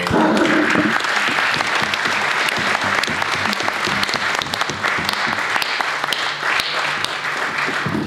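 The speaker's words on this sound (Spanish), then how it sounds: "lo primero que hacemos es brindarle un aplauso a nuestro" Sustained audience applause at a talk on controversial topics in Argentine history at the Club del Progreso, dense clapping from a full room lasting the whole stretch, loud and steady.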